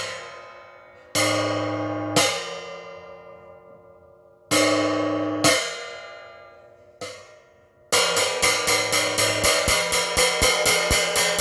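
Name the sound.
gong dead-stick strike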